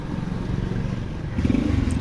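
A motorbike engine idles just after starting on a narrow lane, a close, loud low rumble that swells slightly toward the end, with no talk.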